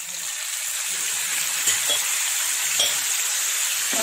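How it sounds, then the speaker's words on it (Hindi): Marinated minced meat keema sizzles steadily in hot oil, a continuous bright frying hiss with a few soft clinks of stirring, heard up close and alone. "ये जो कीमा हमने मैरिनेट किया था अब इसको हम इस तेल के अंदर डाल देते हैं"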